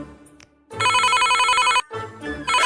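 Telephone ringtone trilling loudly in two long bursts separated by a short gap, with a brief quieter tone at the start.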